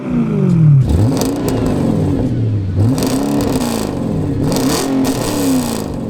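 Straight-piped Audi RS4 engine revving hard in loud, repeated rising and falling sweeps, with sharp crackles between revs and no talking.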